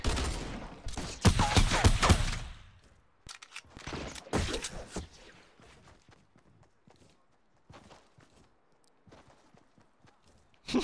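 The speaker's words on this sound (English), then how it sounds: "I was gonna say someone's shooting." Gunfire from a suppressed assault rifle in a shooter video game, heard as a dense burst of quick shots early on, then scattered sharper reports and softer taps fading to quiet.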